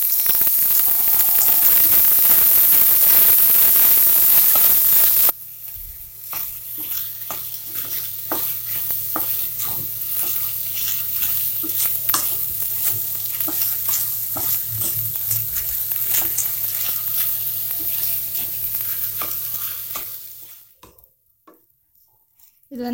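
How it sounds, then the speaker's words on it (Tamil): Washed basmati rice frying in ghee for a mushroom pulao, stirred in the pan with a loud hiss at first, then a quieter steady sizzle broken by scraping stirs, ending in near silence. "இது பாஸ்மதி ரைஸ் நல்லா கழுவி வச்சுருக்கோம். இதை வந்து ஃப்ரை பண்ணிக்கணும்."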